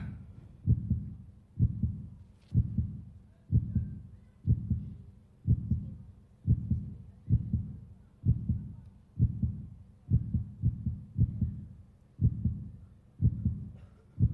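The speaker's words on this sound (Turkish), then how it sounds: "Kalp atışları başladı." A heartbeat sound effect played on a TV talent show stage, with a loud, low, regular double-thump pulse repeating steadily about once every second and no voices.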